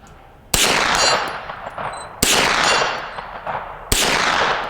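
Three sharp, loud gunshots from a Ruger PC9 carbine, spaced about two seconds apart, each ringing out with a bright decaying tail outdoors.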